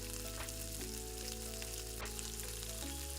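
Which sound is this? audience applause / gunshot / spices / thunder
spices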